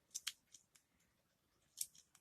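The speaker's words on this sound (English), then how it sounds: "And snip it." Scissors snipping yarn during crochet work, a few crisp close snips in two small clusters with quiet gaps between them, no talking.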